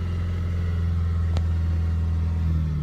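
A 2015 Volkswagen Jetta GLI idles just after starting, a steady, close, low engine rumble with a constant hum and one brief click partway through. No one speaks.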